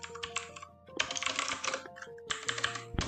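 Bursts of rapid key clicks from a computer keyboard as Python code is typed, coming in quick clustered runs separated by short pauses, close and fairly clear with no talking.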